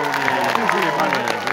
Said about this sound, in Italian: un applauso alle donne!